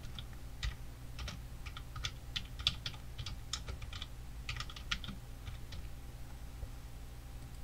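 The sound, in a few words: typing a file name on a computer keyboard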